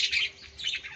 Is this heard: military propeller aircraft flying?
no